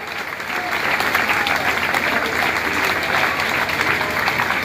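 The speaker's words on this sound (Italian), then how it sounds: "Un applauso serio." Loud, dense applause from a concert crowd at an outdoor show, sustained evenly from start to finish with no talk over it.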